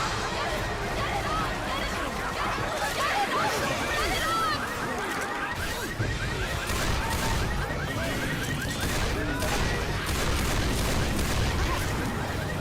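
Rapid gunfire bursts and shooting effects from the open-world first-person shooter Far Cry 3, loud and dense throughout, layered with impacts, ambient game noise and voices.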